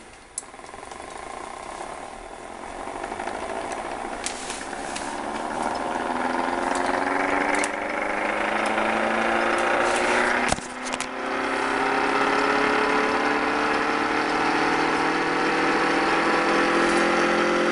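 A free-energy style Orbo or Ben Thomas motor spinning up, a whirring tone rising steadily in pitch and growing louder, with a brief knock partway through before it settles into a steady, singing hum.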